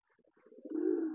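A Sirazi pigeon nesting by a door gives a short, rising coo while feeding its chick: a few faint pulses swell into a sustained throaty rumble, close and quiet.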